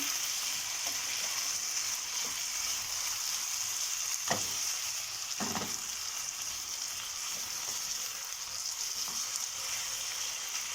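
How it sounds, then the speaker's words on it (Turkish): Potatoes frying in a pan, a constant crackling sizzle close by, with a few soft scraping knocks as the pieces are stirred with a utensil, no talking. "Patateslerimi şöyle bir karıştırıyorum."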